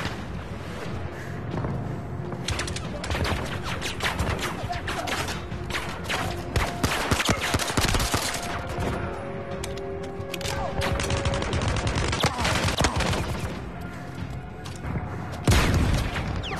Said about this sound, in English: This stupid machine gun.